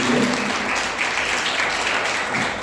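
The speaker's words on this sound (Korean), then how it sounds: "잠깐만 일어나 주시면 박수로 환영하겠습니다" A congregation at a Sunday church service claps to welcome visiting guests, with sustained, evenly spread applause that fills the room.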